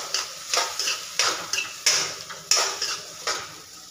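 Tomatoes frying in a pan are stirred with a metal utensil, giving about eight sharp scraping clinks in an irregular rhythm over a faint sizzle, close up and with no voices.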